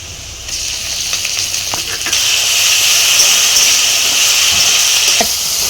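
Ginger, garlic, onion and green chilli spice paste fries in a pan for jackfruit chicken, giving a loud, steady sizzling hiss that swells when the paste goes in, with a few stirring knocks.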